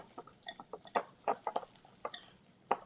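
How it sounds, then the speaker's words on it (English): A wire whisk clinks and scrapes against a bowl in quick, uneven strokes, each metallic tap sharp and close, with short pauses between bursts. "I'm going to use a whisk now."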